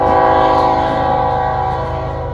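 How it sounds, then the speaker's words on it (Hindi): An Indian train on the Konkan Railway sounds a sustained horn, loud and steady, over the low rumble and rhythmic clatter of wheels running on rails. "धीमी धीमी बातचीत और कभी कभी सुनाई देने वाली ट्रेन की हॉर्न"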